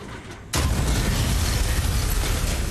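A sudden loud blast erupts as a drill ship explodes in Volcanoids, swelling into a sustained, roaring rumble of a synthetic game explosion that fills the rest of the moment.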